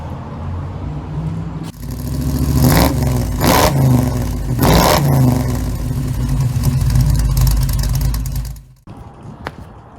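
Car engine revving after all its spark plugs were replaced, loud close roars rising and falling with several sharp bursts of acceleration and clattering, then a sudden drop to quieter idle near the end.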